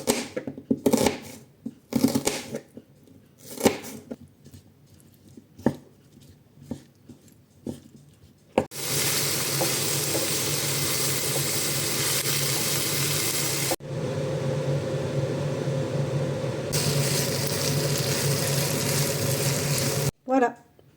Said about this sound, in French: du tofu nature que je vais faire cuire avec des tomates et un oignon